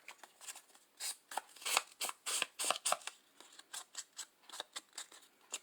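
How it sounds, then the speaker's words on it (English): Quick, irregular scraping and rasping strokes distressing the edges of scrapbook paper, close and crisp, coming in short bursts with brief pauses. "I just went around and distressed all my edges of the paper"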